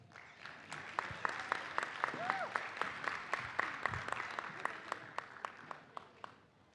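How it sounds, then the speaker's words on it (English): An audience claps at the 28th Annual African Heritage Graduation Ceremony in Wilkins Theatre, a moderate round of applause with distinct individual claps that thins out toward the end, and someone speaks briefly over it. "Can we please have another round of applause for the Africana Studies collateral certificate recipients?"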